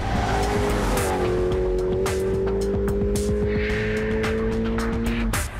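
A loud, close engine of a 750 bhp BMW E92 M3 roars steadily at full throttle on a racing circuit straight, its pitch holding high and strained, with tire noise and clicks over the top before it cuts off.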